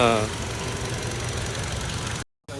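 A petrol car engine idles in a steady, close, even rumble that cuts out briefly near the end, with talk over it.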